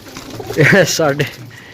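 Soft, throaty cooing of pigeons, a couple of rolling phrases close by over a low murmuring background.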